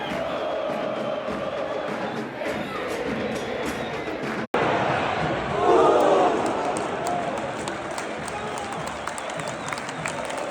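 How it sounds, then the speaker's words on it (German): A large football stadium crowd at a CA Tigre match roars in celebration of an equalizing goal against Barracas Central, a dense sustained wall of cheering and applause that swells after a brief cut and stays loud throughout. "Bis dann Tigre tatsächlich den Ausgleich geschossen hat. Der Jubel war riesig."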